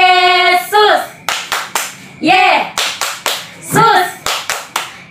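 Children in an Indonesian Sunday school clap their hands in short rhythmic bursts of sharp claps, alternating with sung or chanted group voices.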